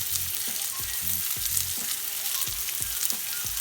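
Lamb chops with crushed garlic sizzle steadily in a pan, close and constant, with a regular rhythm of soft thumps and scrapes from stirring running underneath.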